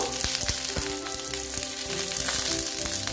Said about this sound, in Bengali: নুন দিয়ে ঢেঁড়সটা ভেজে নেব। একটু ভেজে নেব ঢেঁড়সটাকে।